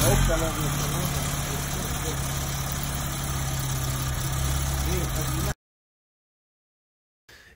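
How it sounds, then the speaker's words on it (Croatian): An Opel Kadett E engine idling, a steady continuous hum for about five seconds, then abrupt silence and a brief return of sound at the end. "uključujući zvuk motora"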